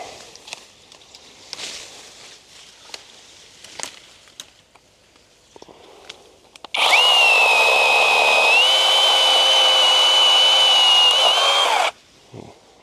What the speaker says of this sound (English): I'm not even going to try because I got a chainsaw.